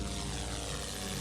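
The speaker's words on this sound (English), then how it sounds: "spotlights from helicopters overhead swept the park" Helicopters hover overhead above a park, their rotor and engine noise forming a dense, continuous wash with a faint rhythmic beat, steady and unbroken throughout.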